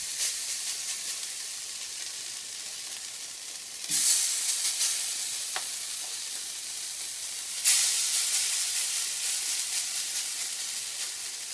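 Cauliflower cakes fry in a pan with a steady close hiss and sizzle, which swells twice in brief louder surges, with no talking.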